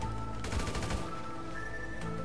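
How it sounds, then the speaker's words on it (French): In the GTA 5 video game, a grenade goes off inside an abandoned mine: a dense, echoing burst of blast and rattling bangs over a constant loud game rumble, with no talk. "on voit très bien que la grenade va à l'intérieur et qu'elle explose à l'intérieur"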